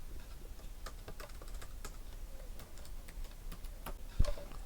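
Typing on a computer keyboard while modelling a database table, a steady run of light key clicks close by with one heavier knock near the end, no talking.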